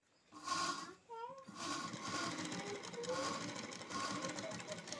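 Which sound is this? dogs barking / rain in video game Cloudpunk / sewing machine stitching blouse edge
sewing machine stitching blouse edge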